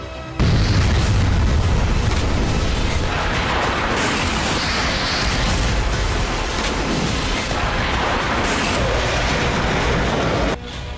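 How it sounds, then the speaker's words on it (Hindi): Cluster bomb explosions in the Russia-Ukraine war, with Ukrainian strikes on Russian positions: a loud, continuous rumbling roar of booms lasting about ten seconds, with no speech. "क्लस्टर बम हमले के सबूत के तौर पर एक वीडियो सामने आया है।"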